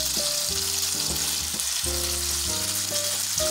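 Shrimp sizzle steadily in a hot pan for a creamy fettuccine Alfredo, a continuous broad frying hiss with no voices, accompanied by sustained musical tones playing throughout.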